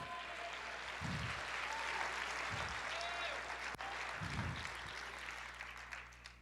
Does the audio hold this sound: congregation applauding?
yes